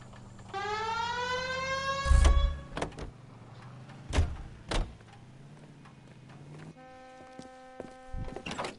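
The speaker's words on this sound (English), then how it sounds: "Hit the siren." A police car siren in the video game L.A. Noire winds up in a rising wail, followed by heavy thuds like car doors and a steady engine or siren drone afterward.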